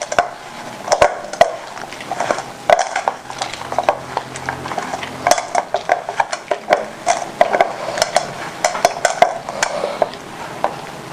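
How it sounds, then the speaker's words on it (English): Powders being mixed for homemade black soap, a utensil scraping and clinking against a bowl in quick irregular taps and scrapes, close and continuous, no talk. "I go mix them."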